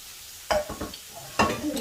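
Butter and maida flour are stirred in a hot pan, giving two short bursts of scraping and sizzling close by.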